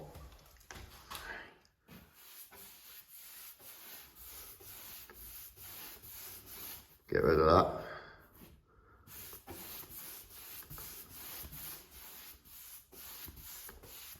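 A stiff synthetic-bristle brush, a pricey Lucas ProTools model, rubs back and forth across a surface in steady, close scratchy strokes, with one louder rustle midway and a brief spoken remark.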